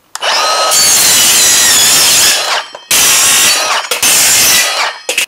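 An aluminum lighting rail with copper conductors inside is cut with a power tool in three loud bursts of harsh, buzzing cutting noise, separated by brief pauses, with no talking.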